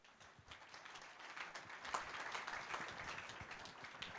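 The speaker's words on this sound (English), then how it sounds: "An applause to the entire panel." Audience applause for a panel at a sponsored discussion event in Davos, a steady moderate wash of clapping from a seated crowd lasting several seconds, fairly distant and without talk over it.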